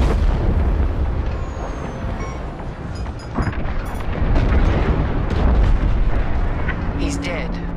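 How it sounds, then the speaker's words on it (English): A frigate blows up in the space combat game Star Wars Squadrons: a loud, sustained rumbling roar of explosions with booming bursts, and voices speaking over it. "The frigate is about to explode."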